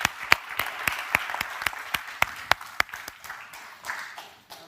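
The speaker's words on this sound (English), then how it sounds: "Big round of applause for everyone" Applause from a conference audience at the close of a SEMIC 2024 digital government session, with sharp individual claps standing out over a continuous clapping wash that gradually fades.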